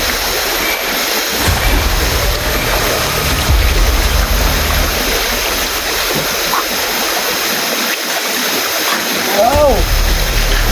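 Water splashes continuously and loudly during outdoor bathing, a dense rushing wash like a stream with occasional sharper splashes, while a voice cries out and talks over it.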